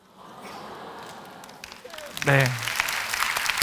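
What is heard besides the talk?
audience applause in church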